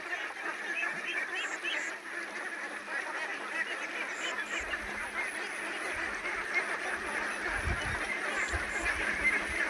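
A crowd of ducks quacking continuously in a dense, overlapping chorus, heard from a short distance with no clear talking.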